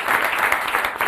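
An audience gives a brief, dense round of applause at a school event, loud and close, the clapping filling the short moment without pause.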